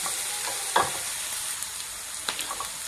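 Chicken frying in a pan for Mangalore-style chicken sukka makes a steady close sizzle, with a few sharp scrapes and clanks from stirring at irregular moments.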